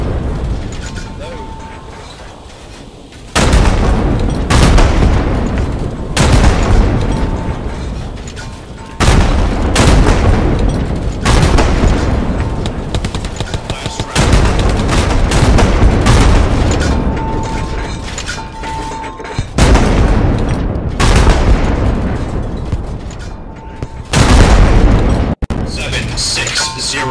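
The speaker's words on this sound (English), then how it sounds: "Firing in 3, 2, 1, fire." A tank or artillery gun fires repeatedly in Hell Let Loose, about seven heavy, booming shots spaced several seconds apart. Each blast lands loud and close with a long rumbling tail, and voices talk in the quieter gaps.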